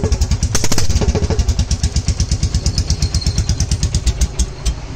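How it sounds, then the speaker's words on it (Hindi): Royal Enfield Classic 350 motorcycle engine running without an exhaust, a loud raw thumping idle with a fast even beat after a brief rev, close and alone. "एक बार गाइस आपको विदाउट एग्जॉस्ट का जो साउंड है रिबॉन का वो एक बार आपको सुना देता हूँ"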